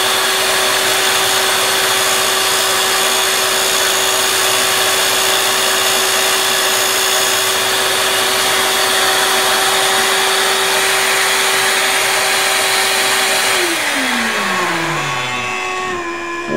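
Shop vacuum running loud and close while a Les Paul guitar nut is squared up, a steady droning whine with a strong tonal hum that drops in pitch and winds down near the end as the motor shuts off.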